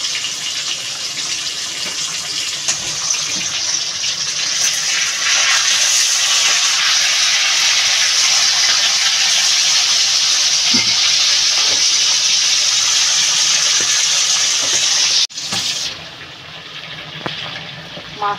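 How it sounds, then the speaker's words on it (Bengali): Tilapia fish frying in hot oil gives a loud, steady sizzle and hiss that fills the whole stretch close by, briefly dipping near the end before carrying on. "আর ওদিকে আমার মাছ ভাজাটা চলছে"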